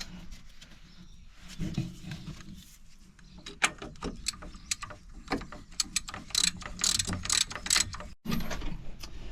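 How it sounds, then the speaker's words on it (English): A hand ratchet tightens drop link bolts on a Peugeot 107, giving repeated quick clicking strokes in uneven bursts, close and fairly quiet, with faint shop noise in between. "I'm going to do them up with the ratchet first."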